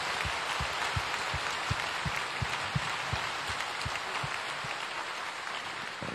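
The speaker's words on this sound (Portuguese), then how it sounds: "A Jesus uma salva de palmas." A Catholic church congregation claps together in a broad, even round of applause that sounds soft and somewhat distant, with a few sharper individual claps standing out against the steady wash.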